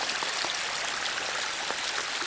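Rainwater rushes steadily down a track at Glen Ogle, flowing briskly along the ground in a continuous close wash of sound with no voices.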